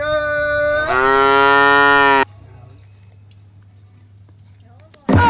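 A buffalo lets out a loud, drawn-out moo lasting about two seconds and rising partway through, close to the listener. Near silence follows, broken by a brief loud burst at the end.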